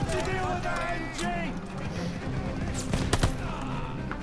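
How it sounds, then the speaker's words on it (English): Machine gun fire in the Call of Duty Vanguard campaign at Stalingrad, heard as sustained bursts of shots over a loud battle din, with voices shouting during the firing. "Need to deal with that MG!"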